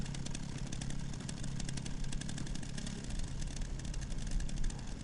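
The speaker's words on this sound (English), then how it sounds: "I love how actually using the chainsaw is an option." A chainsaw in Resident Evil Requiem revs and idles with a steady buzzing engine drone, close and continuous, rising slightly in intensity near the end.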